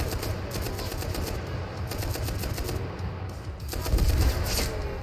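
Dense, continuous gunfire and explosive grenade blasts from a survival-mode battle in the World War II shooter game Enlisted, a steady loud barrage with rapid repeated shots and a heavier boom near the end.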